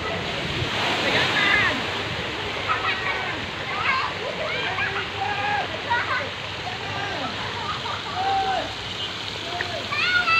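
Water splashes and churns in a swimming pool at a swim club after rain, steady and fairly close, with excited voices of children and others talking and shouting over it.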